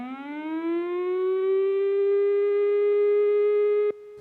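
A civil defense warning siren sounds a single sustained low tone, rising slightly at the start and then holding steady and loud for about four seconds before cutting off abruptly.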